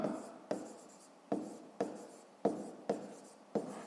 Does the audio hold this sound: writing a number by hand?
yes